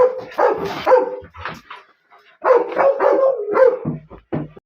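Dogs barking close by indoors, a few loud tonal barks and yips in two bursts separated by a short gap, with whining edges, no speech.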